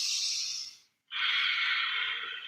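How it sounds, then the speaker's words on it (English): Ujjayi pranayama breathing through the nose during a morning yoga flow: a long, loud, close breath with a throaty hiss, a brief silent pause, then another sustained breath, no talking. "Breath is coming in and out through the nose. That's Ujjayi Pranayama."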